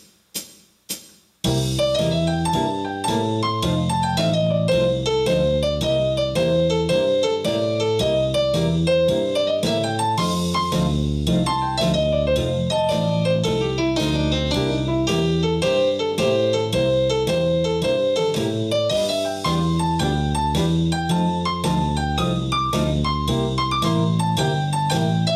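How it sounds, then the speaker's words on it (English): A piano plays a country and swing walking bass pattern: steady, even stepping low notes under chords. The notes run continuously and clearly after a few brief opening taps. "There's also a kind of a walking bass pattern."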